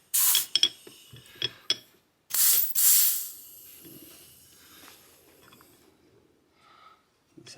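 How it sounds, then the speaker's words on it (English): Compressed air from a nozzle charges the rear shock of a 2012 KX250F dirt bike, giving short sharp hisses and bursts with clicks between them, close by, then a fainter low hiss trailing off. "So you just take your air nozzle, you just put it on there."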